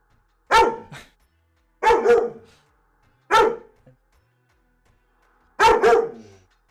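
A dog barking in four separated bursts, mostly sharp double barks, close and loud with silence between them and no talking.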